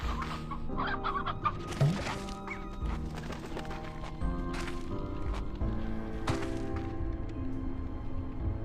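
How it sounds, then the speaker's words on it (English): Chickens cluck steadily in the video game Slime Rancher 2, several birds clucking in an irregular rhythm at moderate loudness over a soft game soundscape with occasional light thuds. "At least I'm getting chickens"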